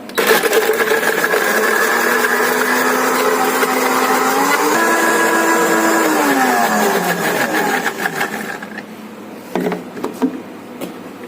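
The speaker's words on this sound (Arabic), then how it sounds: "بعد كده هنغطي وهنسيبه يتضرب لمدة 10 ثواني" A kitchen blender whirs loudly and steadily, blending mango pieces with two spoons of sugar into a smoothie. Its motor pitch shifts partway through, then it cuts off near the end, leaving a few light clatters.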